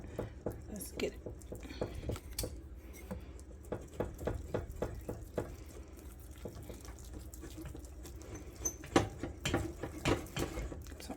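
A spoon or whisk works through thick creamy grits in a small pot, with repeated wet scraping and squishing strokes in an uneven rhythm and occasional clinks against the pot.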